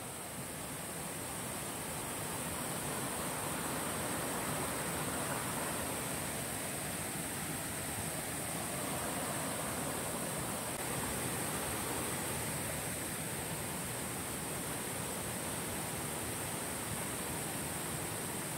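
A waterfall near Baler rushes in a dense, steady roar of falling water, continuous and fairly close, with no voices and no breaks.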